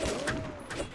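Gunshots ring out in the XSHOT snowball sniper game: a quick run of three sharp, close shot bursts within one second over busy game noise.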